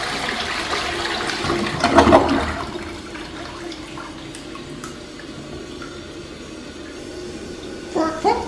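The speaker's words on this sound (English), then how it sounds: "Now let's have a look at a flush." Flush of a first-generation Gerber Aquasaver front-flush toilet, a surging rush of water at the start settling into a long, steady gurgling refill with drips and a small burst near the end.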